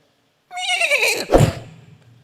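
A human voice imitates a horse neighing, giving one loud, wavering whinny that falls in pitch and ends in a breathy snort, close and alone.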